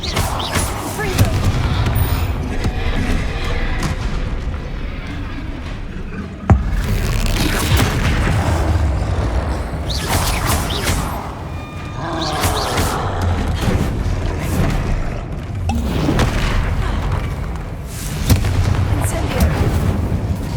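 Repeated booming explosions from the Confringo blasting spell in the video game Hogwarts Legacy, loud and dense. They land one after another over continuous battle noise, with a sharp crack partway through.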